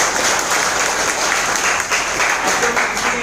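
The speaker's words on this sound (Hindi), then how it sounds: "उनके लिए एक जोरदार तालियां चाहूंगा." An audience at a hotel meeting breaks into loud, continuous clapping, many hands together at close range, sustained through the whole short stretch without pause.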